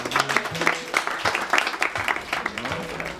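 Applause from a small crowd at a France Services inauguration ceremony in Nilvange, moderately loud and steady for a few seconds, with voices murmuring and speaking underneath.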